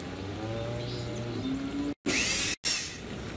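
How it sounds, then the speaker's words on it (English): Power drill boring holes into support beams in the Tonka Workshop video game, a loud steady whirring burst that stops briefly and resumes, following a softer stretch of game sounds and chirpy tones. "Now use the drill to put a hole in those support beams."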